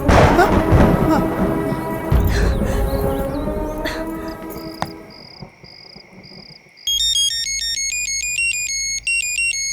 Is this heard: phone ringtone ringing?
yes